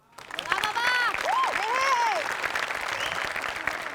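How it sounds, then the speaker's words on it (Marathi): Studio audience bursts into applause at a live comedy show, a dense, steady wash of clapping that swells quickly and holds loud throughout, with a voice rising above the clapping. "सगळ्यात आधी आपण टाळ्या वाजवूया बाबासाठी"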